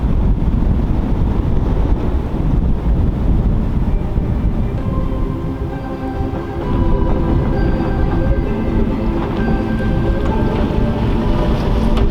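Strong wind roars steadily across the whole stretch, a loud broadband rush with a brief lull midway before it surges back.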